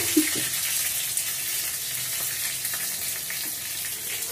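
Coriander seeds dry roasting in a pan, a steady soft sizzle and crackle with faint scrapes and light knocks of stirring, moderately quiet and continuous throughout.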